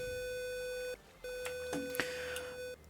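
A Minecraft microcontroller build emits a steady electronic beep tone that cuts out briefly, resumes, then stops, while faint clicks and game sounds ping alongside, quiet overall.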